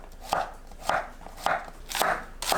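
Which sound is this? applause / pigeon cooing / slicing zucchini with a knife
slicing zucchini with a knife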